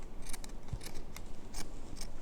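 Scissors snipping through an old T-shirt, a handful of short crisp cuts at an uneven pace, close and quiet.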